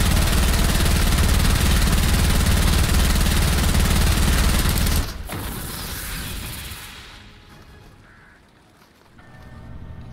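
Rapid, continuous automatic gunfire from a fire-rate Bobcat weapon in a video game, dense and loud for about five seconds, then breaking off into fainter scattered shots and a low fading rumble.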